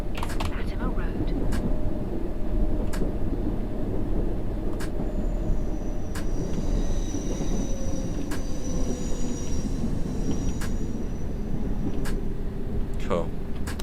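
A London Underground train in the game World Of Subways 3 runs with a steady low rumble and rattle, sharp periodic clicks and faint squealing tones, while someone talks throughout.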